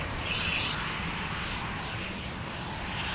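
A jet airliner roars past at Amsterdam Schiphol Airport near runway 36L, a loud, steady, broad engine rumble that holds for the whole stretch with no voices.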